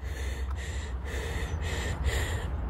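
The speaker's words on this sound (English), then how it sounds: "I'm sure you can hear me breathing real fast." Fast, heavy breathing right after a workout walk outdoors in a park, close to the microphone, with rhythmic puffing breaths over a windy background.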